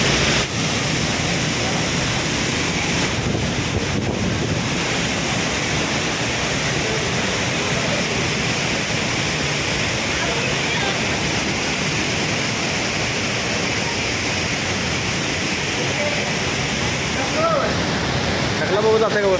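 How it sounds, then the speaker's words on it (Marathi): Steady, dense roar of the Thoseghar waterfall, broad and continuous from start to finish, loud and close, with faint voices now and then beneath it. "जे तुम्ही समोर धबधबा बघितला ना"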